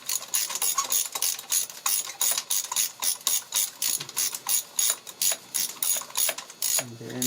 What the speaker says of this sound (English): And then use your ratchet. Now it's tight.